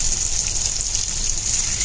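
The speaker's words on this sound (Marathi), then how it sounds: "मिक्सरमध्ये मी टोमॅटो वाटलेले ते घेऊन पाणी." Blended tomato and water pours steadily into a pan as a continuous close, loud wet gush with a hissy sizzling wash, no talk over it.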